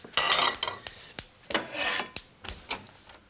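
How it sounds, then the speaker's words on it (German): Chopped peanuts rattle and scrape in a pan as they roast, in a rhythmic series of sharp clinks and rasping stirring strokes, close and clear with no talk. "Ich muss jetzt noch ein bisschen meine, meine Nüsse anbraten hier"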